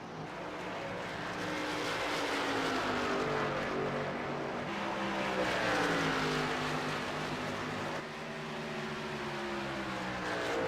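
A race car roars past on track, a loud sustained engine drone with shifting pitch as it passes, under steady ambient noise.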